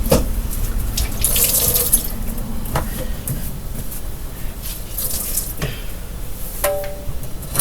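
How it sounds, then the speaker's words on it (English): Tap water streams steadily into a container at a sink while it is filled with filtered water, with a continuous close rushing and occasional clinks and knocks. "And then I'm going to fill it with the filter water."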